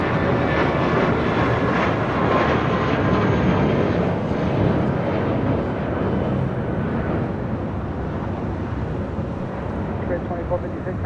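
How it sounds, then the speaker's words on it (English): A Spirit Airlines Airbus A320neo arriving at Los Angeles International Airport makes a loud, continuous jet engine roar that holds steady and slowly softens, with a voice talking over it. "You're looking at Spirit Airlines Flight 649 coming in from Las Vegas and an A320 Neo."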